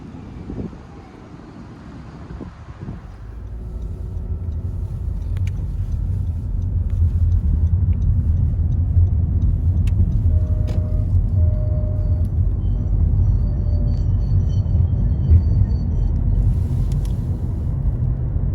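Car driving through a medical center area, a steady low road rumble with wind noise that swells after a few seconds and holds loud and continuous, no one talking.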